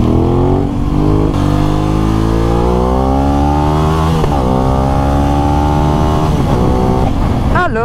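A sport motorcycle engine revs hard and close, its pitch climbing steadily through the rise and dipping briefly before surging again, loud and continuous throughout.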